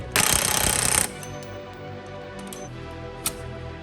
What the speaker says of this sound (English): This snap-on impact is so awesome.